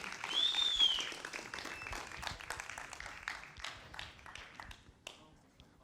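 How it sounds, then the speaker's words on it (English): A crowd at a conference clapping in a dense patter that is loudest at first and gradually thins out, with a high whistle early on. "Applause, guys, applause."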